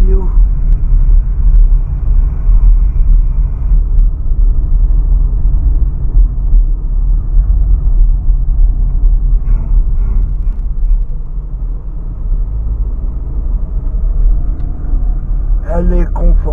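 Steady low engine rumble from inside a Renault Clio on the move, a constant droning hum with road noise filling the cabin, and people chatting softly over it now and then.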